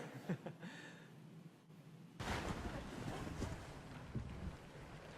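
A traditional Sailau canoe sail is raised in the wind off Papua New Guinea: faint quiet rustling, then an abrupt broad rush of wind and flapping canvas that stays steady to the end.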